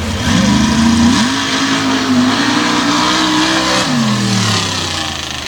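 The blown alcohol-fuelled mud racing vehicle Hillbillies on Alcohol, driven by Todd Franklin at Sanford, makes a run with a loud, close engine roar that climbs in pitch, holds, then drops as it shifts and backs off.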